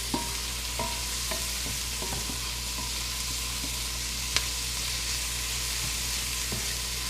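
Onion and coriander fry in a pot as the base for pumpkin soup, a constant close sizzle with a few small utensil taps and one sharp click over the steady hiss.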